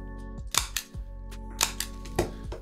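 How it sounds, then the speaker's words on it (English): Stapler pressed through a folded Mylar coin holder: a few sharp, close clicks and snaps spaced irregularly, set over a steady low hum. "We will staple it."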